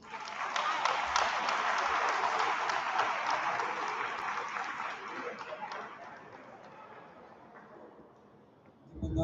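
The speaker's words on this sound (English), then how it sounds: "Another round of applause, please." Applause from the audience at the Aspire Charter Academy 2023 promotion ceremony, a dense, steady wash of many hands clapping that slowly thins and fades over several seconds.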